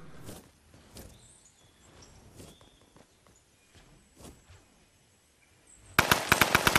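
Video game gunfire: scattered sharp shots with footstep-like thuds, then a loud rapid automatic burst at the very end, close and alone with no talk.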